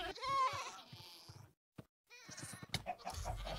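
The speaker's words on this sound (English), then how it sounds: "I swear I'm hearing a screaming goat in here." A goat in the Minecraft video game lets out a shrill, screaming bleat, a wavering cry heard close and loud, followed by a short silence and then further game sounds and a brief squeak.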